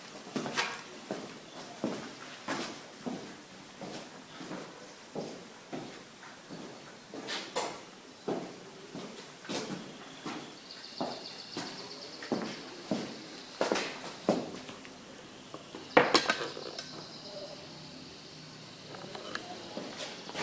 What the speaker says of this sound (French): je vais chercher une pince coupante tout de suite.